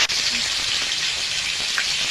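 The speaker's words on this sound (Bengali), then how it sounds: "মাছগুলো ভেজে নেব ভালো করে।" Small pona fish fry in hot oil with a continuous, even sizzle, close and fairly loud, with no pauses.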